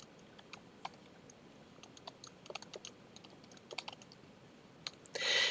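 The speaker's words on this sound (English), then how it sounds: "I think I'm going to type in some more words here." Someone types on a computer keyboard in a quiet room: irregular soft key clicks in short bursts, close and faint, ending with a brief louder rustle.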